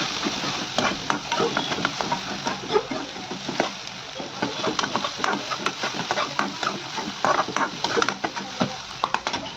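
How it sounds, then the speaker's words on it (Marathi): Onion sautés in a pan until soft, with a soft steady sizzle and frequent scraping and clinking as a spoon stirs it, heard up close. "कांदा छान परतून घ्यायचा पूर्ण मऊ होईपर्यंत"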